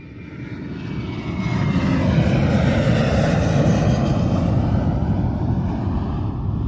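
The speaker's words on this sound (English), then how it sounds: "The plane has taken off" An airplane taking off, its engine roar building over the first two seconds and then holding as a loud, broad, sustained rumble with wind noise, no voices.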